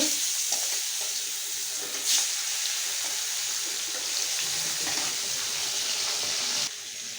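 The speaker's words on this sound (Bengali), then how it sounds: "বন্ধুরা দেখুন, আমার তেলটা গরম হয়ে গেছে। এখন আমি মাছগুলো দিয়ে দেব।" Koi fish frying in hot oil in a wok, a steady bright sizzle running throughout with a brief louder burst near the start and a slight drop at the end, no talking.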